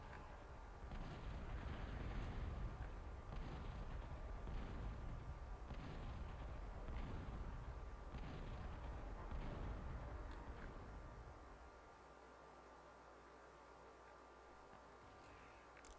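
Guns firing in the ProTA strategy game make a dense, continuous rumble of overlapping thuds and blasts, fairly faint, that rolls on steadily before dropping away to a quieter low hum near the end.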